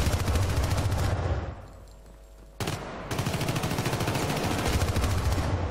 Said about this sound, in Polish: Słabe te strzały ma ta maszyna.